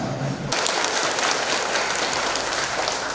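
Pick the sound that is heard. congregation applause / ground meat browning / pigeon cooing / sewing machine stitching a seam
congregation applause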